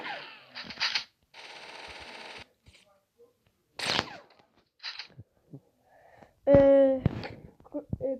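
Bursts of rapid gunfire in the video game Chicken Gun crackle in short volleys, interspersed with brief impacts and clicks, with a voice calling out near the end.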